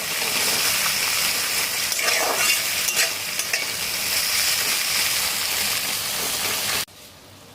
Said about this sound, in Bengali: একটা বড় সাইজের পেঁয়াজকে পাতলা করে কুচিয়ে নিচ্ছি, তেলের মধ্যে দিয়ে দিলাম। পেঁয়াজটা বেশি ভাজবো না